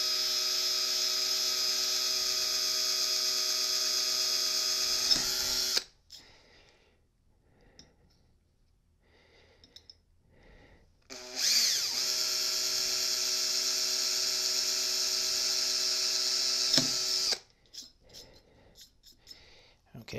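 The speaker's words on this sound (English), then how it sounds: "Let's drill some pilot holes" An electric drill whines at high speed in two long bursts of about five seconds each, drilling pilot holes at a bench vise, separated by a quiet pause with faint breathing.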